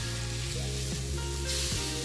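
Turkey burgers just flipped on a grill give a steady, close sizzle with light crackle and a few soft scrapes or clicks, running continuously without talk.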